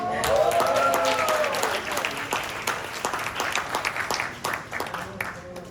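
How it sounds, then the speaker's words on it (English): An audience at a sport psychology keynote conference in Bangkok breaks into steady applause, dense clapping that gradually thins out, with a voice heard at the start. "Big applause for ASPASP."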